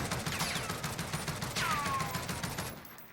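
A stock Oden rifle with a 20-round magazine fires full-auto in the Warzone video game, a rapid, evenly spaced stream of loud shots lasting about three seconds with a faint whoosh partway through, no talk.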